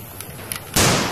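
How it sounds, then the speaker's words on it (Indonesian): A toy AK-47 blaster fires a single sharp, loud synthetic burst near the end after a quiet hiss, a short electronic gunfire sound effect heard up close. "tembakan AK-47"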